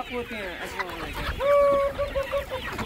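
Chickens cluck and cackle in a poultry farm yard, one bird letting out a drawn-out, loud call over a busy background of softer clucks.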